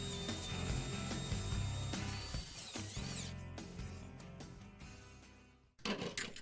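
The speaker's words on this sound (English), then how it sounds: "So now we're going to drill this hole" A power drill bores a hole while working under a BMW E30 during a driveshaft repair, a loud, continuous whirring grind that holds steady before cutting out briefly and restarting near the end.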